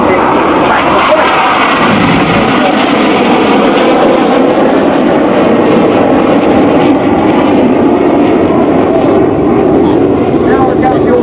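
RAF Red Arrows jets at the Sunderland Air Show 2015 produce a loud, continuous roar that fills the whole stretch, with a commentator talking over it.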